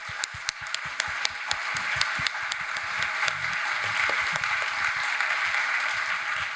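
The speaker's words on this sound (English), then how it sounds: "please, an applause to the panelists" A symposium audience applauds panelists after a climate and ecosystem restoration discussion. A few sharp, separate claps open it, then many hands fill in a steady, sustained round of clapping at moderate distance.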